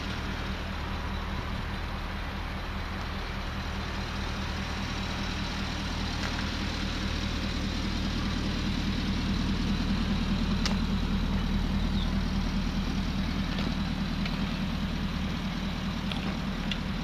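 A red 2010 Porsche Cayenne S with a V8 engine idles steadily, its exhaust giving a continuous low rumble that stays even and close throughout, with no voices.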